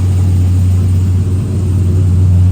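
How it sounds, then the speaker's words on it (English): A Chevy truck engine idles after a cold start with a fast, steady, low rumble that holds loud and even throughout, with no voices. "Right now it's a cold start, so yeah, it's going to be revved up"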